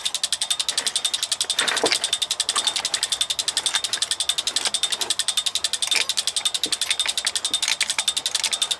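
Rapid mechanical clicking, close and loud, as fuel is hand-pumped to bleed an Isuzu Sitec diesel engine, repeating in a fast even rhythm throughout, with occasional duller knocks.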